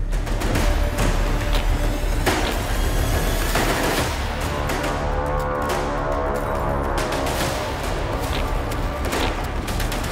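Loud, dense gunfire and bombardment from war footage pour out continuously as overlapping bursts and blasts, with no pauses and no talking.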